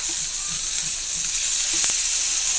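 Food on a hot griddle beside fries and onion rings gives off a loud, constant hissing sizzle, with a couple of brief scraping clicks as the pieces are flipped.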